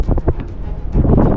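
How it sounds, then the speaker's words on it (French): Wind rushes and buffets the microphone during a paragliding flight as the pilot sets up the base leg toward the landing field, a loud, steady low roar with gusty surges. "Et comme il y a un peu de vent,"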